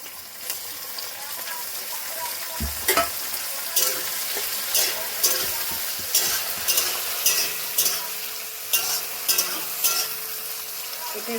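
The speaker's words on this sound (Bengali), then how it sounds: "আমি এখন টমেটোগুলো দিয়ে দেবো।" Tomatoes tipped into garlic and chili frying in a pan, giving a loud continuous sizzle with repeated scraping stir strokes and a sudden splashy gush near the start.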